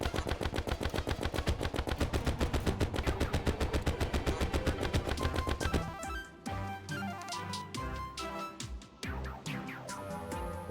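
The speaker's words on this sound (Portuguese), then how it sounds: "Esse tiro de alta velocidade. Que atravessa um inimigo, né?" Rapid high-velocity bullet gunfire from the video game Terraria, a loud, fast, evenly spaced stream of shots for about six seconds, then breaking into irregular bursts over layered game music and effects.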